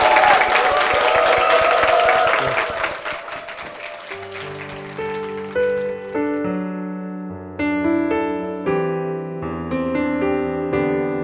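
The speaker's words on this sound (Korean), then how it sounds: "축복의 박수 부탁드리겠습니다" A church congregation claps in a dense burst of applause that fades over a few seconds as soft piano or keyboard music takes over.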